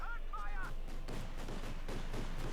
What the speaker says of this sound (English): the mortar career gets caught by the flak 2 cm high explosive shells just biting into them